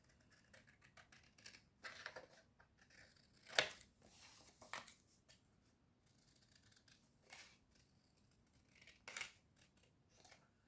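Scissors cutting paper in a few separate snips and crisp slicing strokes, faint and close in a quiet room, with no talking.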